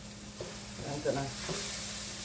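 Tomato paste from a large can being stirred into a hot pan for spaghetti sauce, a soft continuous sizzle with a few scraping strokes of the spoon, close and steady throughout.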